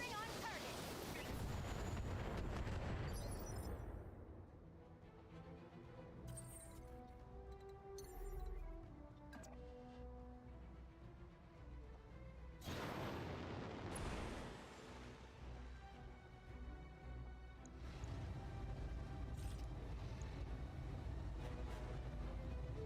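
Mech weapons boom and blast in the BattleTech strategy game, with heavy low explosions rolling in at the start, the middle and the end over quieter stretches, all fairly faint and mixed with talk.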